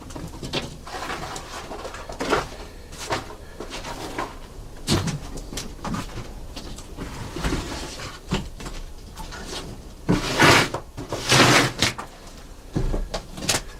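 A wooden door in a root cellar is pushed shut, with scattered knocks, creaks and clunks of wood spread over several seconds.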